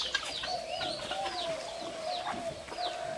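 Campbell ducklings and Chinese goose chicks bathe in water for the first time, giving a steady chorus of high peeping and chirping calls at moderate level with a faint continuous tone beneath and no talking.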